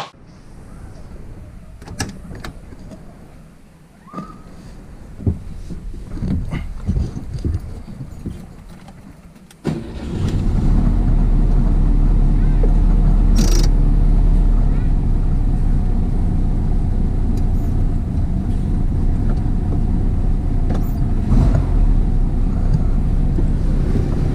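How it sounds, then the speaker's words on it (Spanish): A parked car is started and left idling to warm up. Light clicks and handling noises come first, then the engine catches abruptly and settles into a loud, steady low rumble that continues alone, with some wind buffeting the microphone. "ahí está encendido el carro vamos a dejar un ratito que caliente"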